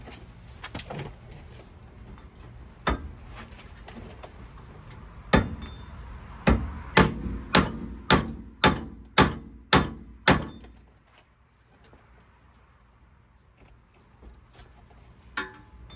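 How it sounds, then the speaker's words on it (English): Metallic hammer blows knocking out a rear wheel bearing on a 2004 Infiniti G35X: a couple of isolated strikes, then a rapid run of about eight sharp, evenly spaced hits, then quiet and one last blow. "Give it a bigger hammer."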